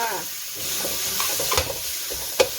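Minced pork frying in a hot pan with garlic for a Thai basil stir-fry, a steady soft sizzle with occasional stirring scrapes and a sharp tap near the end, no talking.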